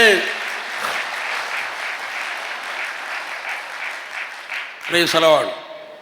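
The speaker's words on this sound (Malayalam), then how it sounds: "ഒന്ന് കൈ ഉയർത്തി കൈയടിച്ചേ" A Catholic church congregation claps together in a dense, steady burst of applause lasting several seconds, with a single voice cutting in near the end.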